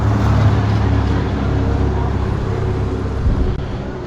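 A tuk-tuk engine in Laos runs steadily and loudly up close, a low droning rumble with road noise that barely changes for about four seconds.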